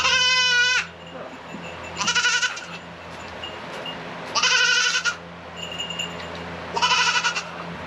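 A goat on a homestead bleats loudly and close by, giving three or four long wavering calls with quiet gaps between them.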